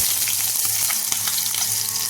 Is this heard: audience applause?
no